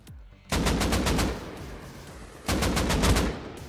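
Rapid automatic gunfire in Rust Console Edition, two loud close bursts of about eight rounds each, separated by a short pause.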